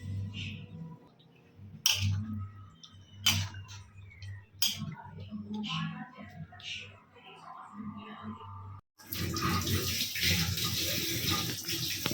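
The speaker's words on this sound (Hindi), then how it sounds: "पानी दे दवा।" Water is poured into a pot of mutton curry during home cooking, a brief splash and sizzle under kitchen noise, followed by a louder, sustained bubbling and hissing rush.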